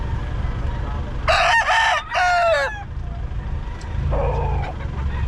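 A rooster crows twice in quick succession, loud and close, followed by a shorter, fainter call over steady background rumble, at a rooster seller in Bocaue, Philippines.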